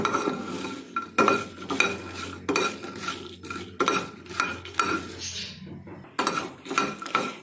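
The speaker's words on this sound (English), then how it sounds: "At the lowest flame I will roast it. I will roast it by stirring it continuously." Whole spices and red chilies for a dahi bara spice mix are stirred continuously as they dry-roast in a pan over the lowest flame, with repeated scraping and rattling strokes in an uneven rhythm, close and fairly quiet.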